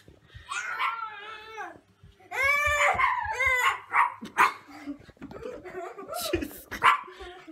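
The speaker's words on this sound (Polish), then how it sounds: "Dobra, już nie szczekaj" A small dog barks and yips repeatedly at close range indoors, high excited yelps in quick bursts, with a voice speaking over and between the barks.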